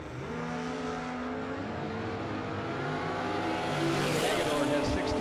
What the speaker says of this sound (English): Keep your eye close on Hagedorn as he gets close to the finish line